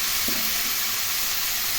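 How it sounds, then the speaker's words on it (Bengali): Flat beans, eggplant and onion leaves sizzle steadily in a hot pan for a bitter gourd vegetable curry, a loud, even frying hiss that fills the short stretch without a break. "এখন এর মধ্যে শিম, বেগুন ও পেঁয়াজ পাতাগুলো দিয়ে দিলাম।"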